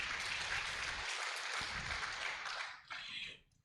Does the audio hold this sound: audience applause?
yes